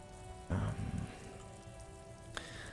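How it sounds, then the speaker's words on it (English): Steady rain hiss with a patter of drops in the video game Disco Elysium, a brief louder burst of splashing near the start and a short sharp tap later, no voices. "There's definitely lots of rain around here."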